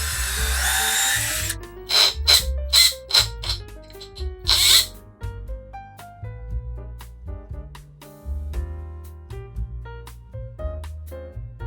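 A power drill drives screws through 2x4 boards into wall studs. It runs in repeated short whirring bursts with rising pitch, and there are pauses and some rattling in between, close up with no talking.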